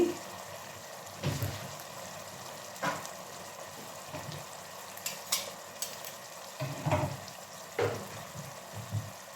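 Potato pieces frying in a pan alongside chicken, with soft sizzling and occasional stirring clatters spaced through the clip, no talking.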